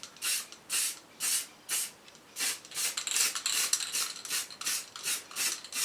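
Black spray paint from an aerosol can hissing onto a primed, repaired chain guard in a garage, laid on in a steady run of short, evenly spaced bursts, close up with no talking.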